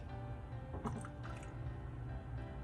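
Soft wet squishing and dripping sounds of kaolin clay mixed in water being stirred into thick cold process soap batter, steady and close, with no talking.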